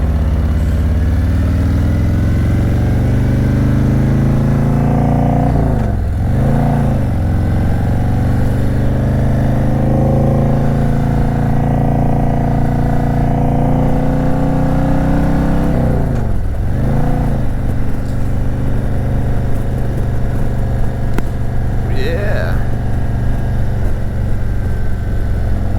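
A customized 2018 Harley-Davidson Road King Special with a hydraulic clutch rumbles loudly and steadily nearby, holding a deep idle with two brief throttle blips that swell and fall back.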